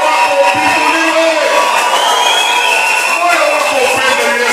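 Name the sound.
congregation clapping and cheering for God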